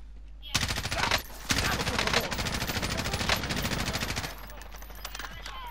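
Sustained automatic gunfire in Call of Duty: Modern Warfare, loud rapid bursts with a short gap near the start, fading to quieter background noise at the end.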